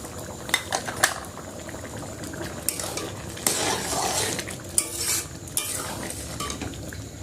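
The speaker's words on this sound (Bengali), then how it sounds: "এখন ভালো করে নাড়িয়ে চাড়িয়ে মিশিয়ে" Egg tadka is stirred in a pan, with a metal utensil scraping and clinking against the pan in irregular knocks over a low bubbling simmer, close and alone with no voices.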